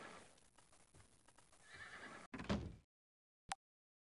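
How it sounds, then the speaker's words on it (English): A horse in the video game Might and Magic 8 gives a loud, close whinny with some hoof clatter, then cuts off; a brief sharp game tone follows after a pause. "Hitch up the horse, hitch up the horse, hitch up the horse."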